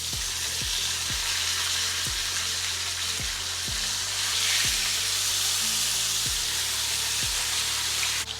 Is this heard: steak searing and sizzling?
yes